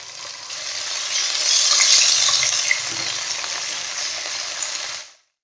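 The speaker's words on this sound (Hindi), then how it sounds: "अदरक लहसुन फ्राई हो चुका है।" Ginger garlic paste sizzles and fries steadily in hot oil with whole black cardamom and cinnamon in a pan, a close, continuous crackling hiss that swells in the middle and then cuts off.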